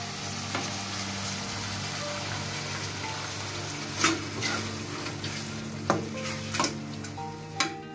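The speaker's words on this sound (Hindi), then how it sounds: "इसमें हम ऐड करेंगे टोमेटो प्यूरी" Tomato puree sizzles as it fries in a pan, a steady hissing crackle for Italian-style tomato spaghetti, with a few clear clinks and scrapes of the stirring utensil on top.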